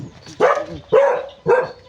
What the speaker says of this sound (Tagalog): Aso, may aso dito.